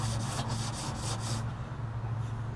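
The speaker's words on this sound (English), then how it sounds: "we're just going to scrub it all down" Scrubbing inside the fender well of a 1972 Olds Cutlass, a run of quick rhythmic brushing strokes that then stops, leaving a low steady hum underneath.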